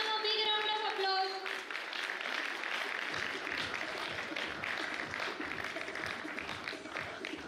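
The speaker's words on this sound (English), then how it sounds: "Please give them a big round of applause." An audience at an industry meeting's award ceremony breaks into sustained, dense applause that fills the room, following a short bright musical flourish at the start; the clapping continues evenly to the end.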